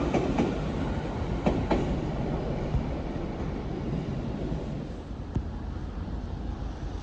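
A London Northwestern Railway Class 350 electric unit, 350-126, pulls away from Primrose Hill: a steady broadband rumble of moving carriages with a few faint rail clicks, fairly close and continuous throughout.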